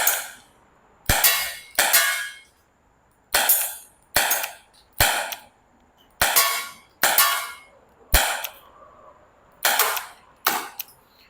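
A Tanaka S&W M327 Performance Center R8 airsoft revolver, heavyweight gas model, fires BBs at close range, about ten metres, as a dozen sharp, loud cracks spaced unevenly, some in quick pairs, each trailing a brief hiss.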